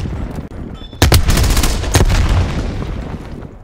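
A grenade blast and rapid gunfire in Call of Duty Black Ops Cold War team deathmatch: a sudden loud boom followed by sustained close bursts of shots and another sharp crack, with a brief voice early on.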